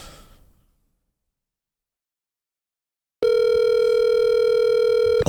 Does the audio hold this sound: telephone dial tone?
yes